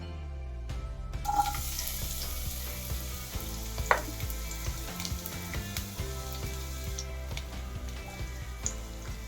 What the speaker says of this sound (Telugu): ఆయిల్ హీట్ ఎక్కింది కదా. ఇప్పుడు మనం ఆనియన్స్ అలాగే మిర్చిని వేసుకుందాం.